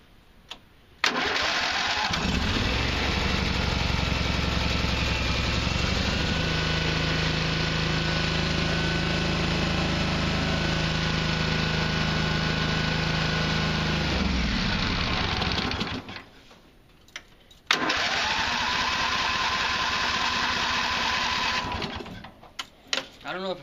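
Small lawn mower engine running at a steady roar in freezing weather while being winterized, cutting out abruptly, then sputtering back to life briefly before stalling unevenly again.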